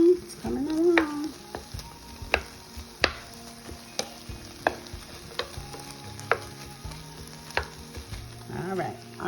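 Ground turkey and vegetables sizzle softly in a pan with no oil, close by, while a spatula stirs and taps at irregular intervals; a brief voice sounds near the start and near the end.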